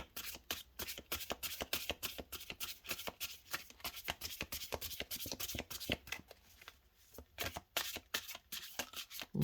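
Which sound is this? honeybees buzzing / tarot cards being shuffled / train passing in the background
tarot cards being shuffled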